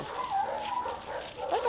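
A young puppy whimpers close by in short, high, wavering whines over a quiet room.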